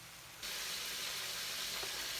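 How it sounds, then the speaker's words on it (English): Meatballs browning in a pan for a gravy-and-meatballs meal, a steady broadband sizzle that jumps louder after a quiet start and holds evenly close by, with no talking. "my meatballs are browning"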